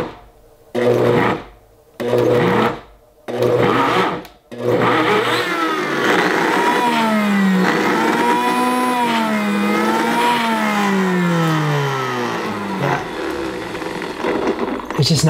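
A Vitamix or Blendtec blender works thick nut butter in short pulses, giving several loud bursts of motor whir separated by brief gaps, then one long continuous run whose pitch sags and rises as the blades labour through the paste.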